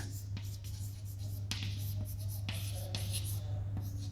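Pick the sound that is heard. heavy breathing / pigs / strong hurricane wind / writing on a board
writing on a board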